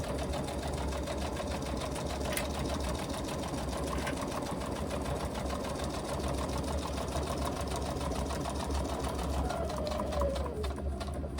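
A sewing machine runs continuously while stitching a seam on a laptop bag, its rapid needle chatter and motor hum holding steady and close throughout.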